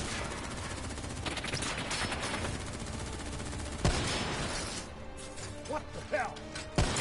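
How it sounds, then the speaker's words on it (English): Gunfire in a video game: rapid bursts of shots crackle over a busy background of game noise, with a few sharper single reports standing out near the middle and the end, loud and close. "Who's shooting?"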